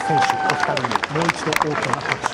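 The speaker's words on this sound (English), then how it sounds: "Ladies and gentlemen, a nice round of applause for both of these fighters" Applause breaks out for two fighters at a boxing press conference, a dense burst of clapping and crowd noise with a few cheers and voices mixed in.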